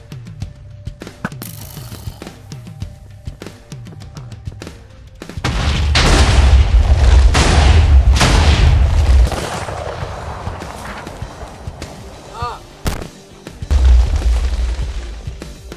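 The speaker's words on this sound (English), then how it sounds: "Well, that was a much bigger explosion." A TNT explosion in the video game Minecraft, set off in an FPS Russia parody: a loud, low booming blast builds up and rumbles for several seconds, followed by scattered crackling debris and a second heavy boom near the end.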